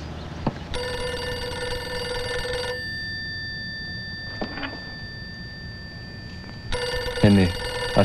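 A telephone in a house rings loudly, its bell sounding in two long bursts separated by a few seconds of quieter room noise, with brief thuds and movement in between.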